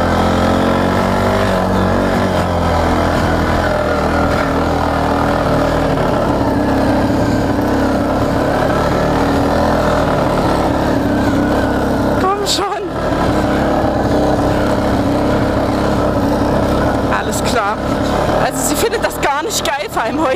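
A TGB Blade quad's engine drones loud and steady as it climbs a hill, with a few sharp revs and throttle surges near the end and a rider talking over the noise.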